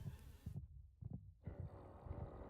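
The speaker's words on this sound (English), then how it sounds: "I think I heard a weird heartbeat there" Minecraft Warden's heartbeat in the video game, a low, muffled double thump repeating at a slow, steady rhythm, faint and close, with no one talking over it.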